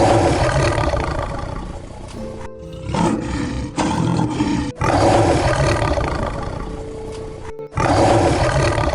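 Cartoon lion roaring loudly in long, rough bursts, with short gaps between roars and some clatter mixed in, and no talking.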